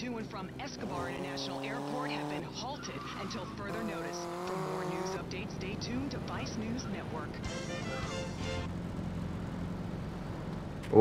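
Car engine and tyres in a driving sequence of the PS2 game GTA Vice City Stories, with revving and screeching passes under near-constant talking.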